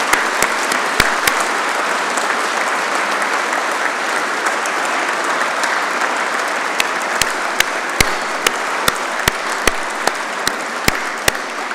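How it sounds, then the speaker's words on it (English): Sustained applause from an audience at a Royal Engineers awards ceremony honouring an award recipient, a dense even clapping that carries on for over ten seconds, with a few sharper nearby claps standing out. "Please, another round of applause for Lieutenant George Lacey."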